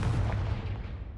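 Confringo fire spell cast in Hogwarts Legacy, a short booming blast with a rumbling low-end impact that fades quickly over about a second.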